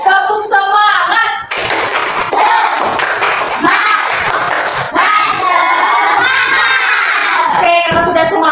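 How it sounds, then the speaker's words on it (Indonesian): Schoolchildren perform a rhythmic spirit clap (tepuk semangat) in a classroom, loud, fast clapping and shouted chanting from many young voices, with a brief pause before the burst of claps and voices continues to the end. "Kita tepuk semangat dulu yuk. Tepuk semangat."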